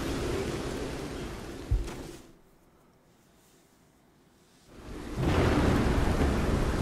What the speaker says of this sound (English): It's raining so hard. This is crazy.